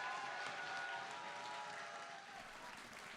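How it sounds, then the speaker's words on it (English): Applause from the audience at a European Splatoon championship tournament, a steady, dense wash of clapping filling the hall for the whole stretch and easing slightly toward the end. "they deserve as much applause."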